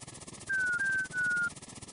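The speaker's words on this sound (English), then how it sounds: "When you hear Big Red's bird call, which sounds like this" A bird call from Big Red in the Sound Scouts game sounds as a thin, high whistled tone. It is held for about a second over a steady, busy backdrop of game music and noise.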